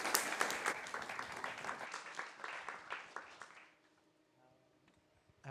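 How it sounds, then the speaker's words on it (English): A conference audience applauds a pensions panel, brisk close clapping that fades out after a few seconds, leaving a quiet room with faint sounds. "please give a warm round of applause to our panel."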